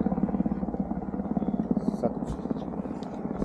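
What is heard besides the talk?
rescue helicopter flying overhead in the Swiss mountains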